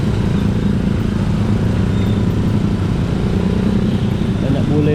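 Motorcycles and other vehicles fill morning traffic in Bali with a dense, continuous engine drone, close and busy, while a person talks over it.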